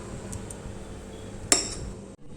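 A small spoon scooping a rasgulla from a bowl, light scraping against the dish followed by one sharp close clink of metal on bowl, then quiet.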